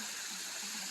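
Water rushes past a fallen tree lying across a stream and on toward falls below, a steady, faint broadband wash of flowing water with no voices.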